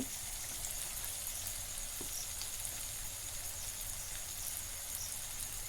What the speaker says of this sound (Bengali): আর দেবো না, এটা ভেজে নেব।